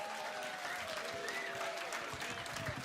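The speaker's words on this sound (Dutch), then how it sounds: "Ik wil heel graag een applaus voor de technische crew, Frans en interne." Steady applause from a live festival audience at a music competition final, sustained dense clapping throughout with no pauses.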